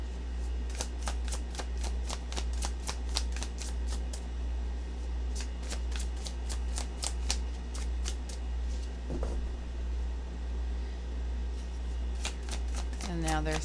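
Tarot cards being shuffled close up, a rapid run of crisp riffling flicks in bursts with short pauses between, over a low steady hum.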